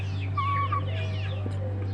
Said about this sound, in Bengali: মুরগি ফার্ম করছি ছোটোখাটো একটা কয়েকটা মুরগি নিয়ে